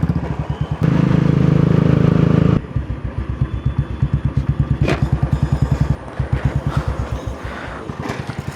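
Old-version KTM 390 Adventure single-cylinder motorcycle engine running close by, a loud, steady, fast thumping pulse that briefly rises to a harsher, fuller roar before settling back, with no talking.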